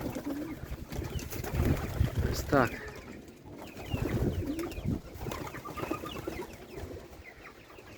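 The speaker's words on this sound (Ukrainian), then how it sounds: "Бачите, голуби. Голуби зараз всі в вольєрчику, всі повилітали." Pigeons coo and flutter in a busy aviary at a pigeon loft, with clucking birds mixed in and a person talking briefly over the steady bird noise.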